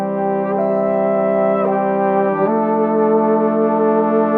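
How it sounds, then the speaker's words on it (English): A brass band sample library played dry with no reverb, its sustained chords of stacked harmonics holding steady and loud, with a brief shift in the harmony near the middle and no one talking. "let's listen to the brass band without the reverb"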